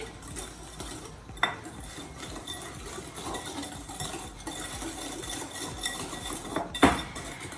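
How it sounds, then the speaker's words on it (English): A whisk clinks steadily against a mixing bowl as vanilla is beaten into cranberry pie batter, with a couple of sharper metallic taps standing out, over a faint steady hum in a home kitchen. "And we're gonna do 1 teaspoon of vanilla. whisk that in."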